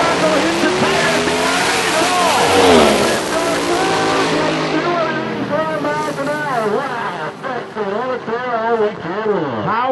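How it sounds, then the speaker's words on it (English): A Pontiac drag race car accelerates down the drag strip with a loud, rising engine roar that fades as an excited announcer talks over it. "How about that Pontiac? 22-5, 185 miles per hour."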